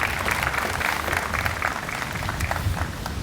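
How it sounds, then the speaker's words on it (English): Outdoor audience applause at a Quincy Pride flag raising ceremony, a steady wash of clapping from a crowd that holds even through the whole stretch, moderately loud and without speech over it. "Give him a round of applause as he comes up"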